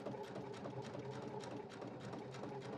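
Sewing machine running steadily as it stitches along the edge of faux leather piping for a child's crossbody bag, a close, fast mechanical chatter with no voice over it.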